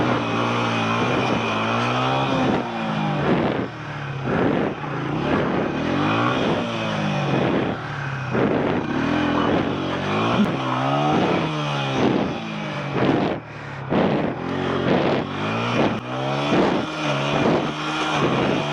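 Motorcycle engine revving hard in first gear while stuck on a steep mountain road at high altitude, with repeated rising and falling revs close by, loud and continuous, no talk.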